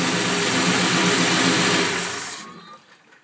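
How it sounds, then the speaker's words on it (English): The engine of a 1985 Chevy Silverado truck with an exhaust leak runs with a loud, rough, hissing rumble close by, then fades and cuts off near the end. "I got an exhaust leak."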